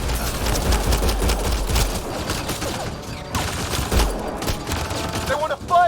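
Gunfire in the sci-fi shooter game Mass Effect: Andromeda: dense bursts of shots crackle in rapid clusters, loud and close, with a brief lull before more firing, while voices speak over the action.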